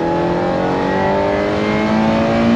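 A 1992 Ferrari 348 with a gated manual revs loudly and up close, its engine note climbing steadily through the rev range with no talk over it.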